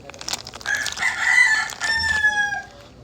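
A hard squishy toy shaped like a bar of soap is squeezed and gives off a squeaky, crowing, chicken-like call, a couple of rising and falling squeals at close range, loud against a quiet room with no speech.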